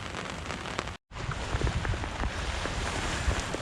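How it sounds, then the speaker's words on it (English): Heavy rain pours down on a sailing boat, a dense steady patter of drops drumming on the deck and surfaces close by, broken by one brief cut of silence and otherwise continuous, with no voices. "But it's raining at the moment, so I'm not gonna go out there yet"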